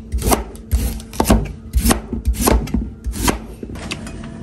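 Sweet potato (kamote) being chopped on a wooden board for a banana curry, a run of close, firm knife strokes in an uneven rhythm with some scraping between cuts.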